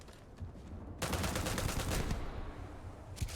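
Gunfire in the video game Starfield comes as a sudden rapid burst of shots lasting over a second, then fades, with one more quick shot at the close.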